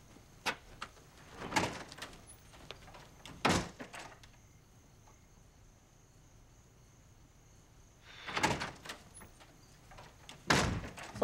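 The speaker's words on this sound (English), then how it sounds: "As a matter of fact, I'm walking out that door," A door opens and shuts with a couple of sharp knocks and thuds at the start, then returns with more bangs near the end; a steady insect or cricket chirp fills the quiet middle stretch.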